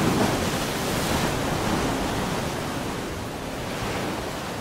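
Waves wash onto a beach at night, a steady broadband rush of surf close by, continuous and fairly loud with no voices.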